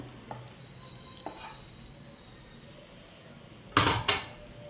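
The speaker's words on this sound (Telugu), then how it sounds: "ఇప్పుడైతే అన్నంలోకి వేసుకొని కలుపుకుందాం గొజ్జు." Tamarind gojju paste is mixed into cooked rice for temple-style pulihora, heard as a few soft scrapes and taps of a utensil against a vessel, then two louder clattering scrapes near the end, with no talk.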